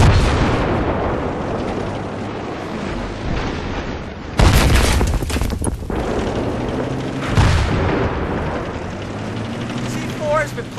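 A C4 charge detonates in Battlefield 3 online multiplayer: a loud, sharp blast about midway, then a second heavy boom a few seconds later, over continuous battlefield rumble and gunfire.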